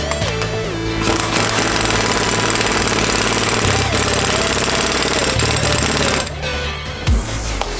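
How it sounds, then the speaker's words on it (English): An axle nut being reinstalled on a Dynatrac ProRock 44 front axle for a Jeep Wrangler JL: a loud, continuous rattling hammer of a power impact tool running for several seconds, pausing briefly before a final burst. "I'm going to reinstall our axle nut"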